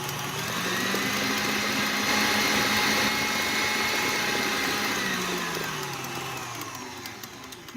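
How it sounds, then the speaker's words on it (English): An electric stand mixer running on high, beating purple cake batter with a steady whirring motor drone that holds for several seconds and then slowly winds down. "I'm going to go ahead and put it on the mixer"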